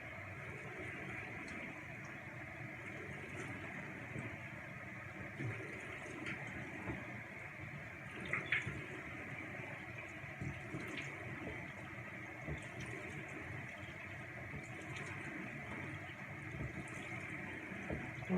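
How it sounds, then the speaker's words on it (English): Warm water runs steadily from a tap at a bathroom sink during a facial routine, a constant close hiss and splash with small bumps of hands moving through the stream, lasting the whole stretch without talking. "And I always wash it off with warm water."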